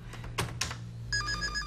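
A telephone rings with a bright, steady electronic tone near the end of the clip, over a low constant hum and a couple of soft knocks.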